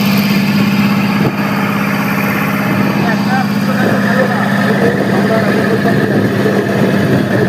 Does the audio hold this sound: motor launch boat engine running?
yes